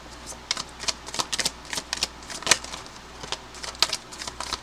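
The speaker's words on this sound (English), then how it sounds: "I just saw the Ten of Cups while shuffling." Tarot cards are shuffled by hand in quick riffling bursts, crisp, papery and close, with irregular rapid flutters repeating over several seconds and no talking.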